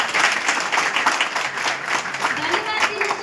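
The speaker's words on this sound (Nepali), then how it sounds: "सम्पूर्णको लागि नाम नलिकन प्लिज एक जोरदार ताली" Loud applause from an audience in a hall of leaders and guests, a vigorous, continuous burst of clapping with uneven pulses throughout, faint voices mixed underneath.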